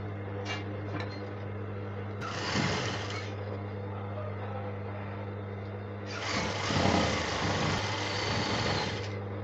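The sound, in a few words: sewing machine sewing seam allowance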